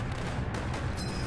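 Airstrike bombardment in the Northend Tower Defense game: low rumbling explosions and gunfire blending into a continuous, loud barrage over a brief moment.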